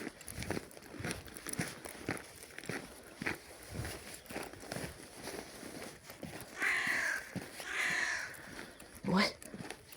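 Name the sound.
crow cawing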